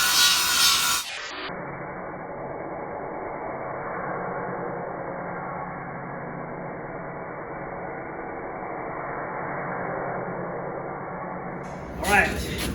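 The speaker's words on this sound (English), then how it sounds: "Now me and Nate's about to grind." Grinding on a first-generation Toyota Tacoma steel bumper after welding, a long, steady abrasive whir with a brief louder burst near the start and another as it spins down at the end.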